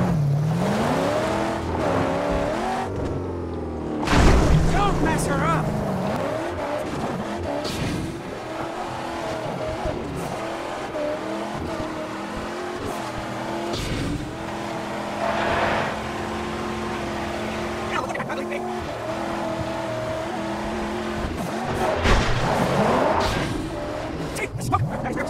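Car engine from the Mad Max video game, droning and shifting pitch as it drives, with skids and revving bursts, heard under ongoing speech and game sounds.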